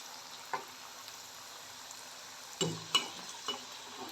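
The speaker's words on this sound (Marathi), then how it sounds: "आपल्या वड्या छान तळून होत आहेत" Bottle gourd vadi shallow frying in a little hot oil as they are turned, a low steady sizzle with a few louder clinks and spatters near the end.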